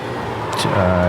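Race car engine of an O'Reilly B car running at Martinsville in iRacing, a steady close engine drone rising in pitch through the short stretch, with a brief burst of hiss partway, continuous and loud.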